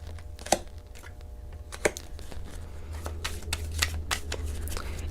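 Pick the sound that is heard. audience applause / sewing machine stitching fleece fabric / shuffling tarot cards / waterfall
shuffling tarot cards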